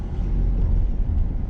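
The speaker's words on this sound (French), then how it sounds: "Et on accélère tranquillement. Et on met la deuxième." A car pulling away gently and shifting into second gear, a low steady engine rumble close up inside the cabin, with no gear change standing out over the short stretch.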